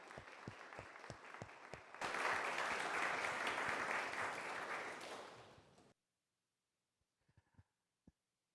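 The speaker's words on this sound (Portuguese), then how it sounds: "Nós queremos agradecer de forma ruidosa, com uma salva de palmas" Church congregation at a Lutheran Sunday service in Joinville breaks into a loud burst of applause lasting several seconds, preceded by a few sharp single claps, then cutting to near silence with faint scattered taps.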